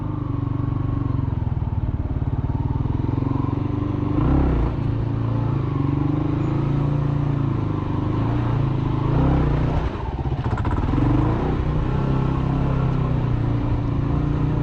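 Motorcycle engine labouring steadily while riding up a hill, close and loud throughout, the revs dragging low as it nearly stalls, with a couple of brief rattling surges midway.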